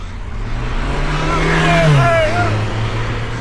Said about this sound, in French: C'est le moment que je choisis la voiture de Florian pour me dépasser